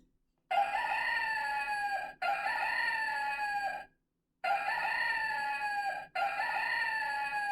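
A toy animal book plays a rooster crowing cock-a-doodle-doo, loud and close: four long crows in two pairs separated by a short silence, with no talk.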